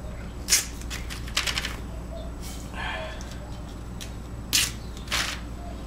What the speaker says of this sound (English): So just get some masking tape and just start masking it off.